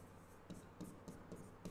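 Pen or pencil scratching on paper during a Marathi geometry lesson, writing out angle terms; a few short rhythmic strokes, quiet and close, with no talk.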